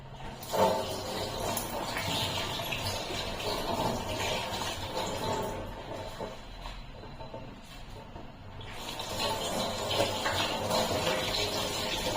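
Water runs steadily from a tap while potatoes are rinsed and swished beneath it, with faint handling noises and a brief lull midway.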